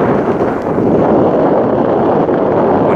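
Wind buffets the microphone during a bike ride through open countryside, a loud, constant low rumbling roar with no voices.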